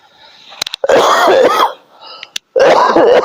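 A man clears his throat and coughs harshly a few times, close up, in short raspy bursts separated by brief pauses.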